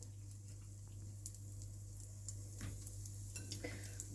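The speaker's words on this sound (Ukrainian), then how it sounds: "Кожний шматочок добре паніруємо у борошні та відправляємо смажитися" Quiet, steady sizzling of flour-coated pumpkin slices frying in a preheated pan, with a few soft clicks and scrapes of utensils against the pan.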